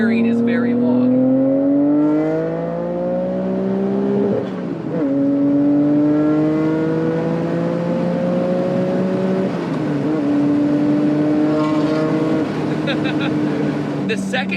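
A turbocharged Nissan Skyline engine revs hard and loud, pitch climbing through repeated gear pulls with brief dips between shifts.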